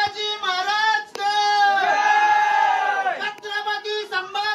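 A large crowd of trekkers at Harihar fort shouts slogans in unison, drawn-out chanted calls from many voices rising and falling in loud waves with short breaks between.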